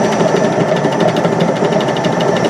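A homemade drum sander, built to sand the inside of a round porthole window, spins with its drum attached, giving a loud, steady motor hum with a fast rhythmic flutter from a slight wobble, running continuously throughout.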